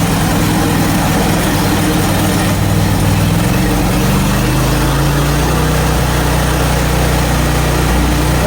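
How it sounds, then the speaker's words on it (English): A 23 horsepower Briggs & Stratton engine runs steadily on a portable sawmill with a 10-degree blade set up to cut a frozen log, a loud, continuous low drone whose pitch shifts slightly midway. "That is a 23 horsepower Briggs & Stratton engine."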